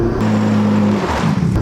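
A four-door sedan fitted with the twin-turbo RB26 engine from a GT-R, making 430 all-wheel horsepower, holding a steady loud drone that dips and shifts as revs change near the end.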